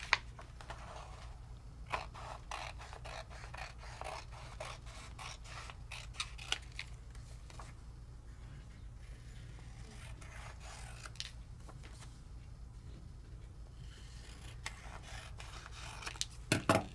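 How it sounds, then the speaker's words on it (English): Scissors snipping through paper while cutting out craft designs, a quiet close series of irregular crisp snips and paper rustles with no talking. "This is where the cutting comes in."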